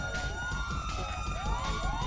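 A police siren wails from an in-game police car in modded GTA 5, its rising and falling tones sweeping steadily at moderate volume over a low background rumble.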